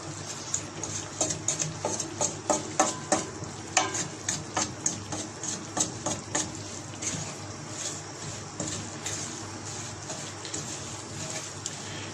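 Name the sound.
semolina halwa being stirred and fried in desi ghee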